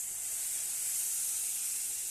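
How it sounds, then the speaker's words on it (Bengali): Water poured into a hot pan of prawn masala sends up a steady, even hiss of steam and sizzle, moderately quiet and unbroken for a couple of seconds with no voices. "এবার জলটা ঢেলে দেওয়া হবে"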